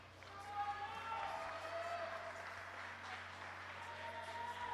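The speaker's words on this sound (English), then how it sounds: "big applause. Come on, audience." A small audience at a world para shooting championship pistol event claps, thin and fairly distant applause with a commentator talking over it.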